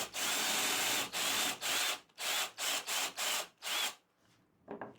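Power drill boring through wood, about eight short bursts of whirring with brief gaps between them, then falling silent near the end.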